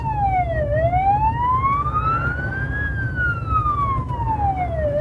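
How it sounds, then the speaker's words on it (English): A police siren wails steadily, its pitch sweeping slowly up and down, loud and continuous over a low engine rumble. "you heard the siren, yes, because the police"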